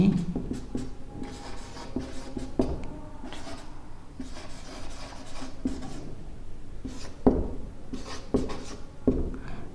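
Chalk or marker writing on a board during a grammar lesson, a series of soft scratchy strokes in bursts, fairly close and quiet, with faint room noise between strokes.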